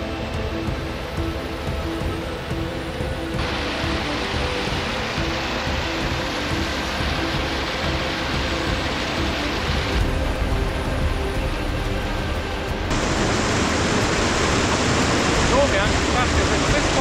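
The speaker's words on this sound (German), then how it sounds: "Weit ist es nicht mehr bis zum Wasserfall, wir hören ihn schon." Constant broadband rushing of a waterfall near Moritzburg in Saxony, Germany, a steady roar that swells louder toward the end, with no voices heard.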